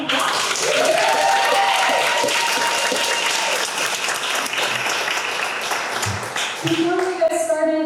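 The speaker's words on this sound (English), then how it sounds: "Please give her and herself a round of applause." A bookstore audience at an author talk breaks into warm sustained applause that carries through most of the moment before tapering, while a voice speaks over it near the end.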